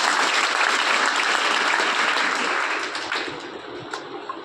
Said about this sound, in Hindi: एक बार वापिस तालियां।